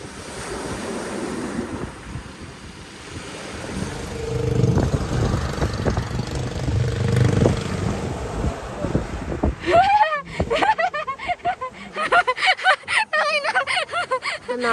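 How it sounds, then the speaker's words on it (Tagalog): Sea waves wash in and pull back over the stones of a beach below Malabrigo Lighthouse near Cape Santiago, Batangas, with a loud surging rush and heavy wind buffeting the microphone, followed by rattling stones and a voice speaking near the end. "Natunog yung bato eh, no? Pagka umaano eh. Bumabalik yung alon."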